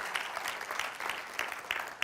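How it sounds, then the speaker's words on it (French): An audience applauds church volunteers with soft, distant clapping that keeps up steadily for a couple of seconds. "est-ce qu'on peut applaudir tous les bénévoles qui servent avec fidélité, avec persévérance?"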